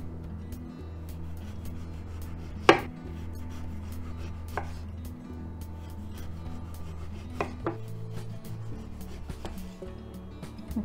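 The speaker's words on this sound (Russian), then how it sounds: "Подготовим апельсины, нарезаю слайсами." A knife slices oranges on a board in a few sharp, spaced chops over a low steady background hum.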